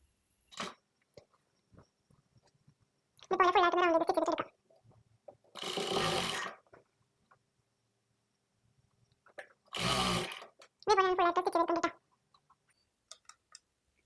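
A sewing machine stitches the lining cloth of a baby frock in two short, rapid whirring runs, close and clear, alternating with separate bursts of noisy handling in an otherwise quiet room.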